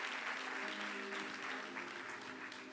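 A church congregation claps for the Lord during a pastor's sermon, a brief, steady wash of applause that sounds somewhat distant, with a little cheering mixed in.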